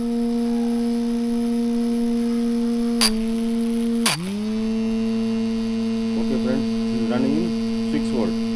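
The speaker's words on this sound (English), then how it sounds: "you can see the motor running in 6 volt" A small motor runs on a 6 V lead acid battery, giving a steady, close hum with two sharp clicks and a dip in pitch midway, then a few faint higher chirps toward the end.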